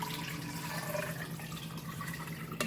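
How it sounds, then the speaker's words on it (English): Water from a glass pours into a pot of Goan pork sorpotel, a steady splashing fill at close range with no talking. "So I'm adding the water to this now"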